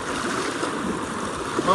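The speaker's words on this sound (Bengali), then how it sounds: "যা স্রোত বাবা, কি স্রোতে" Strong current of the Matla river rushing steadily past a small fishing boat, a continuous broad watery wash heard up close with no clear talk over it.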